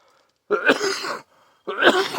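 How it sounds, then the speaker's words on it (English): Two harsh, close coughs from one person, each a rough burst lasting under a second, separated by a short silence. "boy, my cough sounds horrible"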